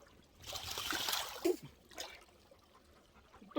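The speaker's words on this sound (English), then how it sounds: "Little fall, little rocks." Creek water trickles over a small fall and rocks on a farm nature walk, a faint, close babble that swells briefly into a brighter, louder wash before fading back.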